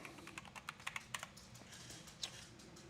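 Keys on a computer keyboard tapped in an irregular run of quick clicks, close and fairly quiet, with no voices over them.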